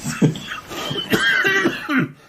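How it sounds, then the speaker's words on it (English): A few rough coughs and throat-clearing sounds, close to the microphone, in short bursts over about two seconds. "that is a natural cough as well"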